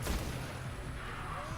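Solar grenade explosions in the video game Destiny during a solo Crota raid fight, a dense rumbling burst of booms that stays loud and continuous through the moment.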